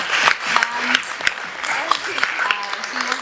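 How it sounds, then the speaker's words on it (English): An audience at a corporate talk bursts into sustained applause, dense clapping with a few sharper individual claps, close and fairly loud, while someone speaks over it. "If I can request everybody to please give a huge round of applause to Maithili ma'am."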